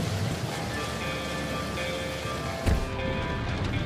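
Steady heavy rain pours down on a stormy night, a dense continuous hiss with a brief deeper thump near the end, no voices.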